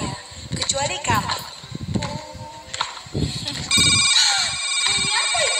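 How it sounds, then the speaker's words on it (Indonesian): An electronic telephone ring, bright and warbling, starts partway through and carries on loudly to the end, following a stretch of animated speech and background music. "Itu bunyi telepon."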